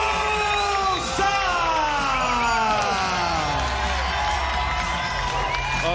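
An arena crowd at a Karate Combat event cheers and whoops loudly for a 40-year-old fighter from the Dominican Republic, a dense sustained roar with rising shouts throughout, under an announcer's voice.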